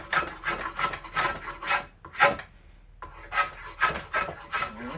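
Rhythmic rasping strokes of a rasp along the sides of an ash longbow stave, about a dozen close, scratchy passes in steady bursts with a brief pause midway.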